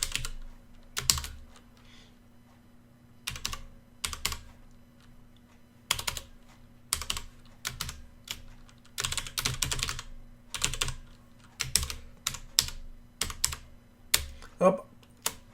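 An encryption password for unlocking an Ubuntu disk is typed on a computer keyboard in irregular bursts of close, crisp keystrokes separated by short pauses, with no voice.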